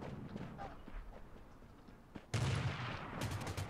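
Quiet rustling with faint thuds gives way to a sudden burst of rapid gunfire in the video game Rules of Survival, sharp repeated shots continuing to the end.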